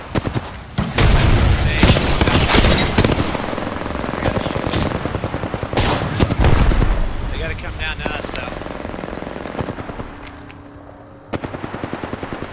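Rapid, loud bursts of automatic gunfire and explosions in a shooter video game firefight, with continuous volleys from nearby and occasional booms, while a player talks over the action.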